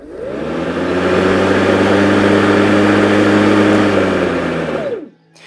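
A Ryobi RYLMX40A-0 cordless lawn mower with a brushless motor, run on one 18V ONE+ battery, spins up to a steady loud whine with a harmonic hum, holds it for about five seconds, then winds down and stops.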